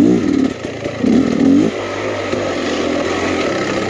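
A 2023 Beta Xtrainer 300 two-stroke enduro motorcycle on wooded single track, its engine revving and warbling loudly up close in the first half, then dropping to a steadier, lower drone.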